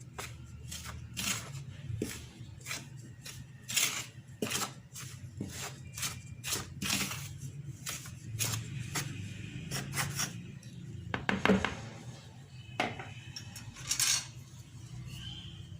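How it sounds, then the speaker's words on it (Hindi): A spoon scrapes and clinks in a bowl while stirring dry flour, sugar, yeast and salt together, with repeated rubbing and tapping strokes at close range. "खुश्क अज़्ज़ा को मिक्स कर लेंगे अच्छी तरह से"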